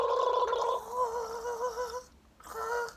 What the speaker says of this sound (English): just like as if you're gargling water